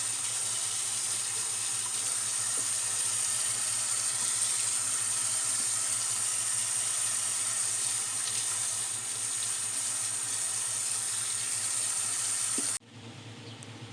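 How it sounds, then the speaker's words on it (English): Running water rinsing soap off items in a sink, a steady loud hiss of flowing water that continues almost unchanged, then drops abruptly near the end, with no talk. "you just got to get rid of all the soap, rinse it."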